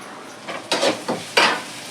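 Vegetables with salt being sautéed in a pan, with a few short scraping stirs and a soft sizzle, close and fairly loud, no voices.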